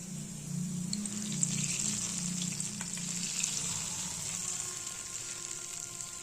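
Half a cup of hot oil with a small onion fried golden, poured over a bowl of beef nihari: a soft, continuous sizzle and crackle that slowly fades, heard close with no talking.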